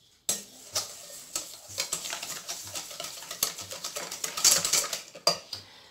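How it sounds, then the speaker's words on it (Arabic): A spoon stirs cake batter in a bowl, clinking and scraping against the sides in a quick uneven rhythm, close and moderately loud. "هكذا نخلطو مليح."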